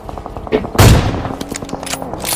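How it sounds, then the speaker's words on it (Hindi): Gunfire in the BGMI battle royale game: a loud close shot followed by a run of quicker, fainter bursts from one side, with no talk. "तभी मुझे लेफ्ट से गोलियां चलने की आवाज आती है"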